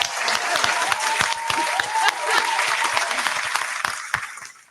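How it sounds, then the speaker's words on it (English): A podcast host claps for the guests, a dense run of applause with sharp, steady hand claps over a few seconds and no voices. "I'm clapping for all y'all"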